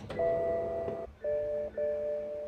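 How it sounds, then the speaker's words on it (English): Interior chime of a BMW car: a sustained, bell-like electronic tone sounding in three clear strikes, the first longer and the next two shorter with brief gaps between them, close and fairly loud with no talking. "you can make it go from the BMW chime like this"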